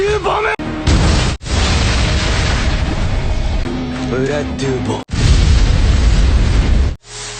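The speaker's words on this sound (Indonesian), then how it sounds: "menempel di sekujur tubuh Pelto, menjadikan ledakan sihir hingga membuat Pelto tak berdaya." A magic explosion: a loud, sustained burst of blasting, booming noise with a dense roar, cut by brief silences, with music-like tones and effects layered throughout.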